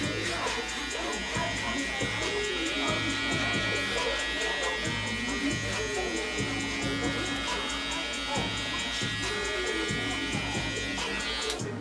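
Electric hair clippers buzz steadily while blending a fade haircut, a close continuous whine with a rhythmic low pulsing throughout, joined by bits of other salon activity.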